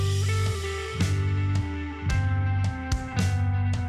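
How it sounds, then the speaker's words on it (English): An electric guitar through Meris Mercury X and LVX effects pedals plays a rhythmic pattern of plucked notes and short chords, each attack ringing and decaying in a steady groove. "So the main guitar part in the introductory piece sounds a bit like this."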